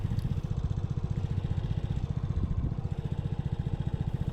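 Small single-cylinder Vespa Primavera S 150 scooter engine idling steadily in a parking lot, a low, even putter held close and continuous throughout.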